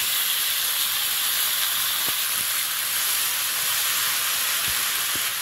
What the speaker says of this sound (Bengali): সবজিটাকে ভালো করে ভেজে নিচ্ছি।